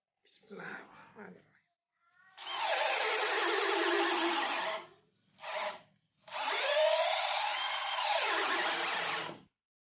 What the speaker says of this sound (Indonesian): Saya akan mengebor di percepatan nomor 2, modenya mode drilling